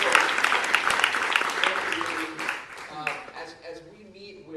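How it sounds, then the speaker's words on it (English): Loud applause from a crowd, dense clapping that swells and then gradually thins out and fades. "How about a round of applause for our parents?"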